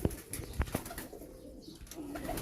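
Pigeons coo faintly in a couple of short low bursts amid a quiet outdoor background, with no talk.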